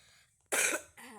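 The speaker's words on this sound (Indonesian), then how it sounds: "Aduh, batuk." A single short, sharp cough from a person, close and loud, followed by a brief breathy tail.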